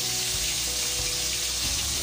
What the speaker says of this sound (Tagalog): lagyan natin siya ng sabaw